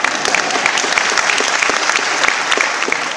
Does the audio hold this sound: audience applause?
yes